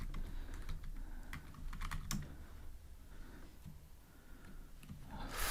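Typing on a computer keyboard, a quiet, quick patter of key presses in irregular bursts over a low background hum, with no one speaking.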